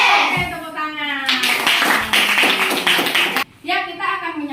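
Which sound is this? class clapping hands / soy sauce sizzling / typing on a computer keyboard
class clapping hands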